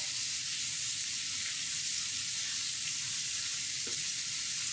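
Vegetables fry in a hot pan while being stirred, a steady loud sizzle close by with no talking.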